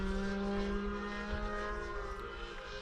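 A propeller plane drones overhead above a park in Birmingham, a steady continuous engine hum with strong low tones that holds at an even level throughout, without talk.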